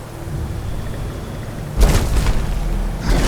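A dragon's Thu'um shout in Skyrim bursts out as a loud, booming roar over a low rumbling background, hitting hard once and then swelling again briefly.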